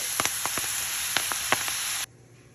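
Collard greens being added to a hot pot, a steady close sizzle with a few soft pops and crackles, cutting off abruptly and leaving a faint hiss, with no talking.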